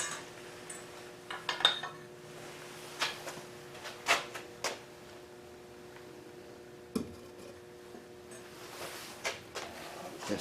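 A crucible of aluminum scrap from melted shell casings being lifted and set back into a hot melting oven, a scattered series of sharp metallic clinks and clanks with scraping in between, fairly quiet against a steady hum.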